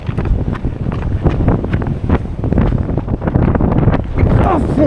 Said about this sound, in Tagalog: Lakas yung hangin guys.